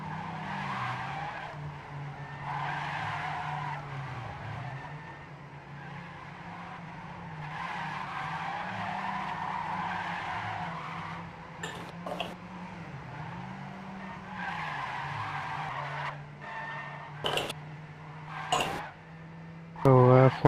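Rally cars in a racing video game drift and skid uphill, tyres squealing in long wavering tones over engine drone, with sharper screeches and bursts toward the end while a commentator talks throughout.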